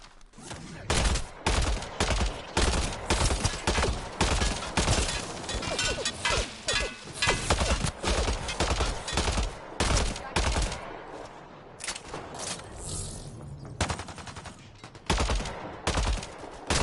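Rapid bursts of gunfire aimed at Kett enemies in the sci-fi shooter Mass Effect Andromeda, dense volleys of loud shots with short gaps, a brief lull near the end before firing resumes.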